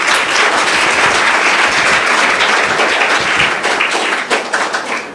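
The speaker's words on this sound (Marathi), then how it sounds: "आलेल्या आपल्या पाहुण्यांचा आपण मनापासून जोरदार टाळ्या वाजवून सत्कार करूया" Audience applauding to welcome guests at a Foundation Day celebration: dense, loud, continuous clapping from a crowd, holding steady for several seconds before thinning slightly with a few scattered claps at the end.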